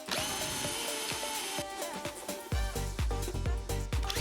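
A power drill whirs into wood while drilling holes, a loud continuous buzzing with short bursts that rise and fall, heard over background music.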